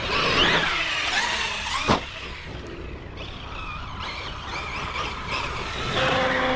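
A Traxxas X-Maxx RC monster truck fitted with a GPM Racing kit drives at speed, its electric motor whining up and down continuously with tire noise and a sharp skid-like burst partway through.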